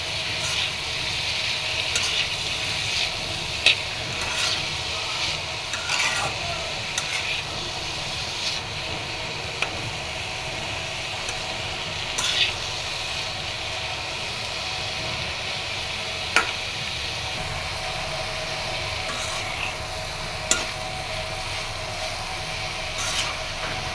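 Pabda fish frying in a little oil on a stove, a steady close sizzle and hiss running throughout with occasional faint clicks and pops, no voices.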